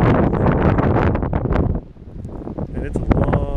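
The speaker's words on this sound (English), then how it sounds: "It is windy." Gusty wind buffets the microphone outdoors on a long dock on Salt Spring Island on a windy September day, a loud broadband rumble that briefly eases and then picks up again.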